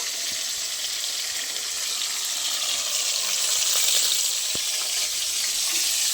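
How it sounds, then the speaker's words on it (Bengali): Hilsa fish frying lightly in oil in a home kitchen, a steady moderate hiss and crackle that holds evenly throughout with one brief tap. "মাছটা আমি হালকা করে ভেজে নেব"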